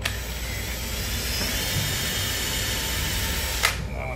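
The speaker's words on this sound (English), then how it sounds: "we're going to start drilling the holes for the steels" A steady high-pitched whirring drone of a power drill boring holes in a Marsblade ice skate blade holder runs continuously up close, ending with a short sharp burst.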